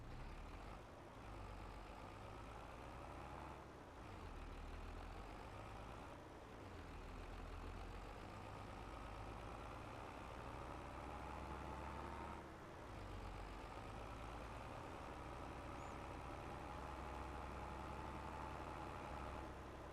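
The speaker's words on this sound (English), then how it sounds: "This is my faster tractor." A fast tractor in Farming Simulator 22 runs its engine in a steady, low, heavy drone that swells and dips slightly now and then, with no other sounds over it.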